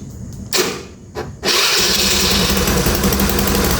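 A carbureted 130cc Honda Beat scooter engine cranks with a couple of starter bursts, then catches and runs loud and steady at close range, its leaky exhaust adding a raspy, rattling edge.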